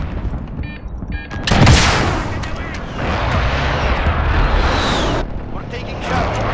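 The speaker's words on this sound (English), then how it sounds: "Allied precision airstrike in." Heavy airstrike explosions in a Call of Duty Modern Warfare multiplayer match, a loud booming blast followed by sustained rumbling detonations and debris, with game announcer voice lines around it.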